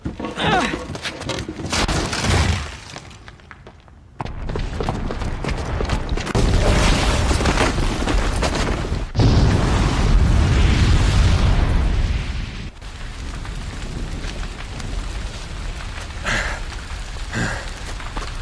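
A booby-trapped bomb going off downstairs in Horizon Zero Dawn, heard as long rumbling blasts and crackling debris that swell, drop off briefly, then surge again, with a voice now and then.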